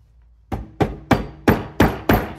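Six sharp, evenly spaced knocks from a plastic mallet tapping an MBK Booster scooter engine part to loosen it, close and distinct with short decays and no voices.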